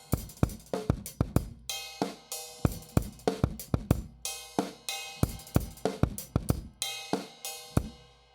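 A drum beat with rapid, busy hi-hat strokes in straight 32nd notes, punchy kick and sharp snare hits, plus ringing ride cymbal accents, played steadily and up close without any talking.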